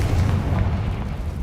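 Confringo fire spell blast in the video game Hogwarts Legacy, a loud, sustained booming rumble that carries steadily through the short moment with no voices.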